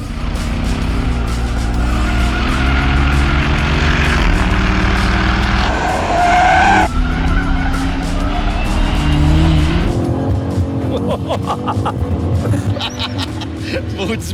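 Two performance SUVs, a Jeep Trackhawk and a BMW X5 M Competition, launch hard using launch control, with loud sustained engine roar and rising revs, a brief tire squeal, and a shift partway through, heard up close throughout.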